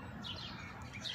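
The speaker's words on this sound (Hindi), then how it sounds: "नाल ही काटवा चिड़िया कबूतर सारे जानवर कट्ठे चोगा चुग रहे हैं।" Sparrows, crows and pigeons gather to feed on scattered grain, giving faint, scattered chirps and tweets with a soft steady background.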